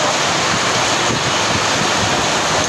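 Strong wind roars continuously against the microphone in a dense, loud rush, like a storm gusting without pause.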